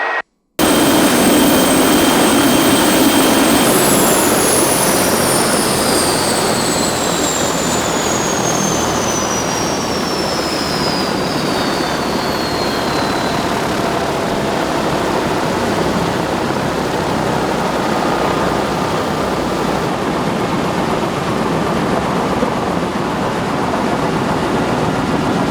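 An aircraft jet engine spools down as a loud, steady roar, with a high whine that falls in pitch over the first seconds and then a broad rushing noise that continues to the end.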